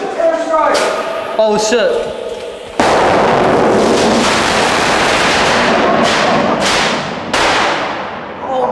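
A hand grenade detonates inside a tunnel: a sudden loud broadband blast after brief talk, followed by several seconds of dense rumbling echo that slowly decays, with a few sharp cracks near the end.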